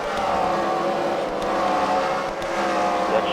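Race cars run in a CWRL Fight Night race at The Freedom Factory, a steady dense engine roar held at close range for the whole stretch with no break.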